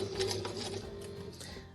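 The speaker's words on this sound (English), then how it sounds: "I'm going to press this reverse knob and I'm going to go back for the same number of stitches" A sewing machine stitches in reverse with its reverse knob held down, running with a quiet, steady whir and fast, soft ticking needle strokes, close and without talk.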